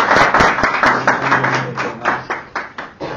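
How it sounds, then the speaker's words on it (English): A small audience claps for a presenter, a short burst of distinct, fairly close hand claps with an uneven rhythm that thins out toward the end. "So with a round of applause, please"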